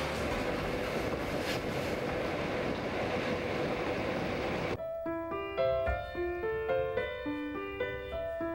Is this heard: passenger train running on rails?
yes